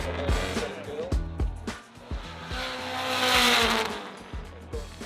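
A 700 hp Subaru WRX rally car laps the Symmons Plains race track, heard from onboard: the engine climbs in pitch again and again through rapid gear changes, loud and close, with a building roar midway.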